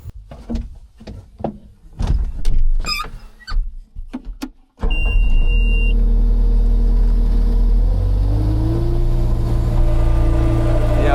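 A skid steer at a farm loading a hay bale into a Vermeer VT660 vertical mixer: a few clanks and door sounds, then a diesel engine starts and runs steadily loud and near, rising in pitch as it works.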